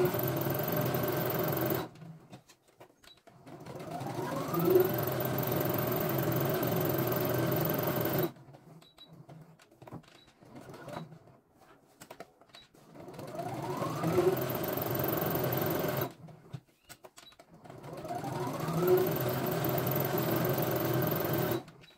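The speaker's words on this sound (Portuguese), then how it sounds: "vou passar uma costurinha em volta, só pra segurar nesse momento" A domestic sewing machine runs steady stitches around the edge of a fabric pouch, in three long motorized runs broken by short pauses, close and fairly loud, with no talk.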